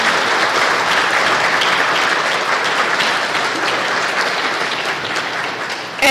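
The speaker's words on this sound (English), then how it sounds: "can we give him a round of applause for that?" A ribbon-cutting audience gives a steady, full round of applause, dense and continuous for several seconds with no voices on top.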